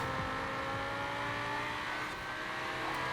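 A Corvette racing in Forza Horizon, its engine a steady, loud, continuous drone with sustained tonal whine throughout, no pauses or talk.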